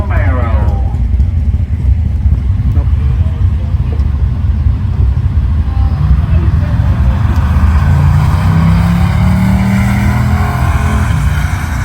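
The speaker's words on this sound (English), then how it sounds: "Willis and Clayton are racing each other." Drag race cars launch and race side by side at an index racing event, a loud continuous engine roar with rising revs toward the end, heard from near the track.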